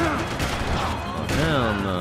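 Gunfire in the shooter Max Payne 3 crackles in short bursts behind a voice talking over the action.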